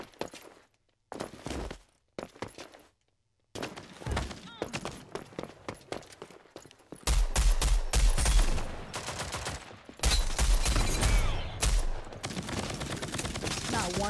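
Gunfire in the video game Rogue Company: sparse single shots at first, then dense bursts of rapid automatic fire, loud and close, with brief gaps between volleys.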